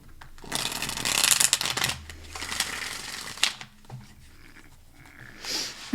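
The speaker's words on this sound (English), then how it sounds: "Let's give that one more shuffle." Tarot cards being shuffled in several quick riffling bursts with pauses between, close and fairly quiet, no speech.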